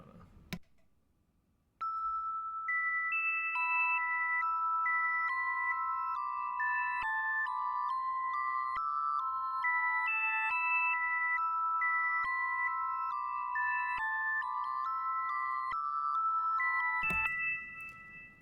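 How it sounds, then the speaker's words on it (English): Bright bell tones play a repeating melodic pattern in a vibey trap beat, loud and steady after a short quiet start, with no voices. "And that was kind of like some bells that kind of give it a little more flavor too."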